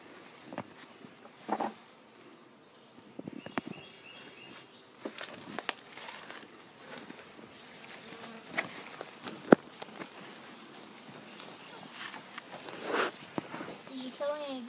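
Honeybees buzz around an open hive while a new colony is installed outdoors, a faint, irregular drone with scattered clicks and brief handling knocks, as people talk quietly nearby.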